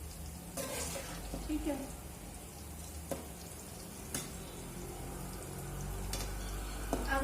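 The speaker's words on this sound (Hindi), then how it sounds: "अपना ये गुलगुला फ्राई हो रहा है" Gulgule, fluffy wheat-flour fritters, sizzle steadily in hot oil as they are stirred and turned, with a constant close frying hiss, occasional scrapes and brief speech over it.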